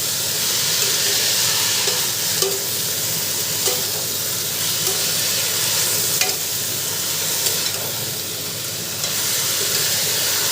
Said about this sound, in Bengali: এবারে ভালো করে বেগুনের সাথে শাকটা মিশিয়ে নেব।